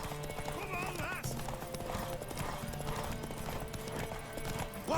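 Horse hooves clip-clopping in The Witcher 3 video game, a steady rhythmic trot beneath talking voices and a brief whinny, with game music in the background.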